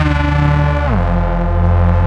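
A Reese lead synth built in Phase Plant, a thick sustained detuned bass-heavy tone whose pitch drops partway through, with a wobbling LFO tremolo pulsing the level, alone and loud.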